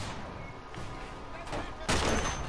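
Uncharted video game gunfight, sporadic shots with a louder sharp burst of fire near the end over a steady background rumble.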